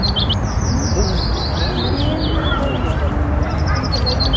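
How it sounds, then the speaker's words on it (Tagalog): Birds chirp and trill in repeated high calls over steady outdoor background noise at St. Louis Zoo, with a talking voice at times. "tanging mga huni lang ng ibon ang naririnig namin dyan"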